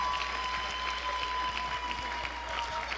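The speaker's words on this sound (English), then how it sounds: "everybody give a last round of applause for all the finalists tonight" An audience at a high school Teen Idol show gives the finalists a final round of applause, a steady, fairly soft wash of clapping heard from a distance with a faint steady tone underneath.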